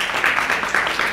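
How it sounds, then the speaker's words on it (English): Brief applause from a seminar audience at a business expo, a soft, dense patter of many hands clapping at a distance. "Let's give her a round of applause on that one."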